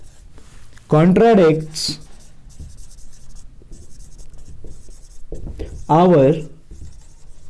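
Pen or marker scratching across a board during a maths lesson comes in short bursts between stretches of a teacher's speech, close and fairly faint.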